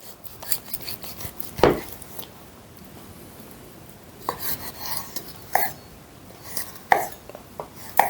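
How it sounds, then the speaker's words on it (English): Knife cutting beef into thin steaks on a board, a scattering of short scraping and slicing strokes, some sharper, with quieter handling noise between and no talk. "So I want to just try and cut it as thinly slices"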